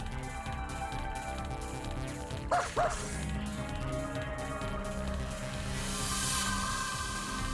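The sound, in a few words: dog barking in video game Nightmare at Green Lake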